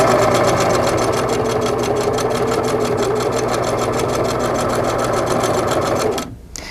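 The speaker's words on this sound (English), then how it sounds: "stitch a 1/4 inch seam. Back tack and continue sewing" A Singer 2000 sewing machine stitches a quarter-inch quilt seam through pinned fabric blocks, with a rapid, even, continuous stitching rhythm up close that stops abruptly just before the end.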